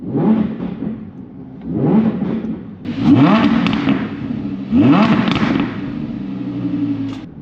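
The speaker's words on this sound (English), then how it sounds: "Let's give it some revs." An Audi R8 V10 Plus engine with a Valvetronic F1 exhaust revs repeatedly, four sharp rising blips from idle, loud and close, settling back to a rumbling idle between bursts.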